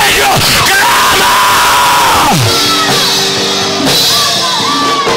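A church congregation in Valledupar, Colombia, shouts and whoops praise to God in loud, overlapping bursts, a dense crowd roar with rising and falling yells that stays intense throughout.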